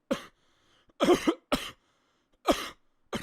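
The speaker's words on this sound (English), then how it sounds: "You just coughing into the air." A handful of short, dry coughs, close by, spaced irregularly with silence between them.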